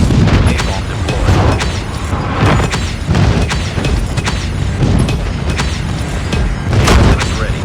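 Napalm strikes in Call of Duty Mobile on the Shipment 1944 map during a 10v10 Domination match, a dense, continuous barrage of loud booming blasts and crackling fire rolling together with no letup.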